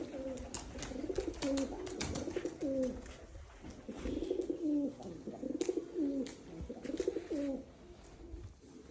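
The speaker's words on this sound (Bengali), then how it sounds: "আজকে আমাদের লফটে একটা অতিথি কবুতর আসছে।" Pigeons coo at a loft in repeated soft, throaty phrases, several rounds in a row at close range, with light rustling and scattered clicks between the calls.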